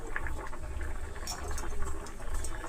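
Cucumber and moong dal curry with salt and chilli powder bubbles in a pot, a low steady simmering burble with small pops, close and fairly quiet, no talking.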